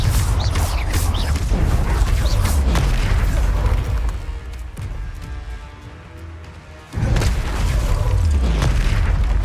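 Loud booming blasts from the Confringo spell in Hogwarts Legacy, heavy explosive bursts that fade into a quieter lull before another powerful blast erupts near the end.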